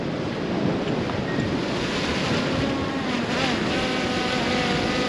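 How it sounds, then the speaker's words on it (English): Strong wind buffeting the microphone on a beach on Fraser Island near Ngkala Rocks, a constant loud roar with surf rumbling underneath, no talking. "It is a bit windy out here"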